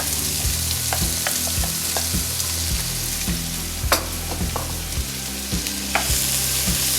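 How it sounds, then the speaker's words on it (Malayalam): Two large long-sliced onions fry in hot oil for a chicken biryani gravy, a loud continuous sizzle broken by repeated clacks and scrapes of stirring, with no voices. "ചൂടായി കിടക്കുന്ന എണ്ണയിലേക്ക് 2 വലിയ സവാള നീളത്തിൽ അരിഞ്ഞാണ്"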